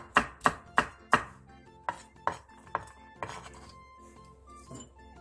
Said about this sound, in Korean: 청양고추 2개는 어슷 썰기 해주세요.